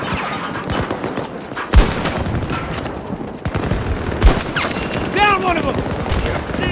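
Gunfire in the shooter game Battlefield 2042, dense bursts of automatic weapon fire with a few sharp louder shots standing out, steady and close throughout, with a voice briefly heard over it.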